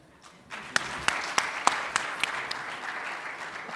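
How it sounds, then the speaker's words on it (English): Conference audience at an African science and innovation event breaking into applause, starting faintly and swelling into steady clapping with a few distinct close claps, moderately distant. "I think the Honorable Minister deserves a bigger round of applause"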